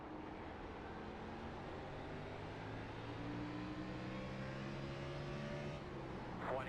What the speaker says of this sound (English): That's actually a 6-pack of race cars as they had their way down the start-finish stretch into 1 and 2